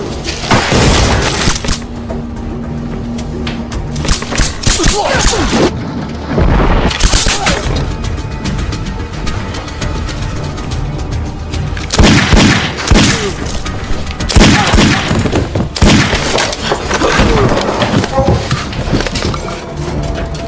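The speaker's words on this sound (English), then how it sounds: "John came to bombard the people there because he thought that Razan was there too" A film attack scene is a near-continuous barrage of loud booming explosions and rapid gunfire, with heavy thuds and bursts overlapping throughout and no talk.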